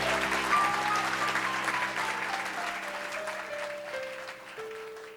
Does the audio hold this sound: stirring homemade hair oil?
no